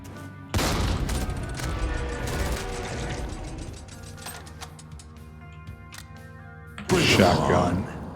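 A Vulcan minigun wielded by a heavy gunner in Jupiter Hell roars in a long, loud mechanical burst, then drops to a lighter clatter before a second heavy burst near the end, with a voice talking over parts of it.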